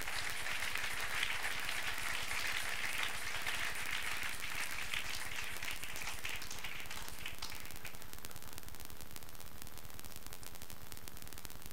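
A church congregation applauds together, a steady wash of clapping that stays loud and dense for about seven seconds before thinning out and fading.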